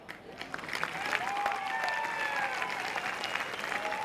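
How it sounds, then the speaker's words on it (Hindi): Audience applause and crowd clapping welcoming a mentor onto the stage at a Club Netsurf event, a steady, dense roar of hands that holds strong through the whole stretch without voices. "तो चाहूंगी जोरदार तालियां बजती रहे as we welcome mister Sachin Kulkarni"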